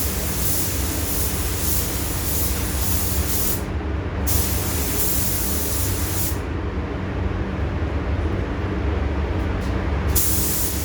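An aerosol spray can lays a coat of paint on an RC rock crawler body in a continuous hissing burst, briefly paused twice and then resumed, close and steady.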